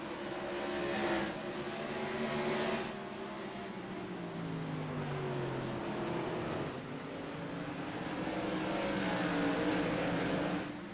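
Modified race cars lap Concord Speedway in a TRS Tour Modified Series race, several engines droning and shifting pitch as they pass, loud and continuous with rising and falling surges.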